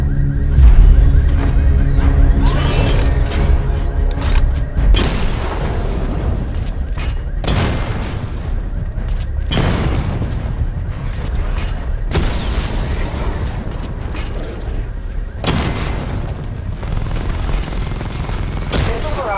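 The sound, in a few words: Batmobile tank cannon fire and explosions in Batman: Arkham Knight video game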